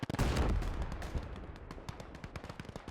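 MG42 machine gun fire during a Gates of Hell battle, with German troops holding a trench against Soviet infantry: a loud opening burst, then scattered, rapid cracks and distant shots that keep going without a break.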